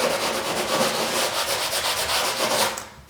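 Steady, close scratchy rubbing of light hand-sanding over a drywall patch, continuous strokes that stop abruptly at the end, no voices.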